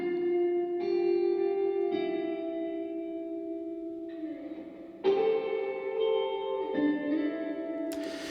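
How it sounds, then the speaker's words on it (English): Electric guitar notes played through a spring reverb, giving a boingy, metallic, bright wash that rings on after each note; several sustained notes change pitch in sequence, loud and close with no talking. "It's kind of a boingy, metallic sort of sound, and it tends to be a bit brighter."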